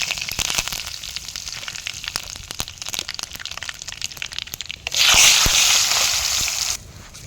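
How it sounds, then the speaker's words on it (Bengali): Dried chillies, whole mustard seeds and curry leaves hit hot oil for tempering, giving a steady crackling sizzle with scattered pops, then a louder burst of frying hiss that cuts off abruptly. "রান্নার জন্য প্রথমে ফোড়নে দেবো শুকনো লঙ্কা, সর্ষে, গোটা সর্ষে। এর সঙ্গে দেবো কারি পাতা"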